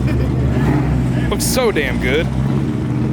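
A Camaro ZL1 1LE muscle car idles with a low, lumpy engine rumble at a supercar meet, steady and nearby, while someone talks over it.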